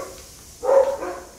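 A dog at a rural home gives a single short bark at moderate distance, rising out of a quiet background and fading quickly.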